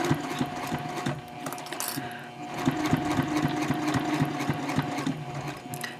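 Sewing machine running steadily through a messenger bag gusset, a close, continuous mechanical clatter with a rhythmic needle tick throughout, no voices.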